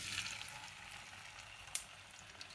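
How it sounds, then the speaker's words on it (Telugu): Marinated pieces shallow-frying in a thin layer of spread oil crackle with a steady, soft hiss, broken by one sharp pop partway through. "ఇప్పుడు ఆయిల్ స్ప్రెడ్ చేసుకొని ఇలా స్ప్రెడ్ చేసుకొని వేయించుకోవాలండి"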